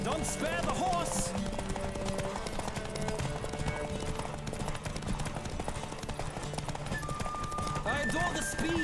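A horse gallops hard in a race in The Witcher video game, its clip-clop hoofbeats steady and close under game music and voices talking.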